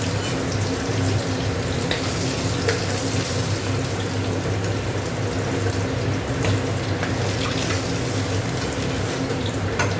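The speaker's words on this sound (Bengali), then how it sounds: "দেখো মাছগুলো ভাজা হয়ে গেছে" Fish frying in a pan of hot oil, a steady, close sizzle that fills the whole stretch with even crackling and no talk.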